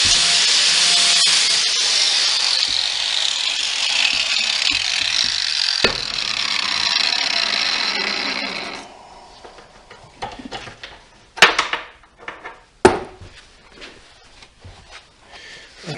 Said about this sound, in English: We'll use this sander and get a little sharper.